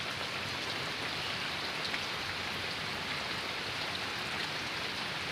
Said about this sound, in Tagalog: malakas pang ulan dito mga kabindors grabe lakas ng ulan